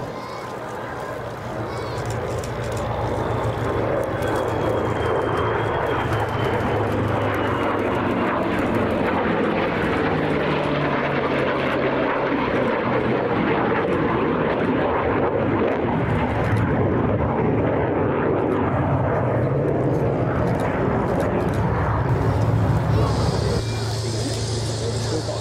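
A US Air Force F-35A fighter jet roars past at an airshow, its engine building from a distant rumble into a loud, sustained thunder with a commentator talking over it.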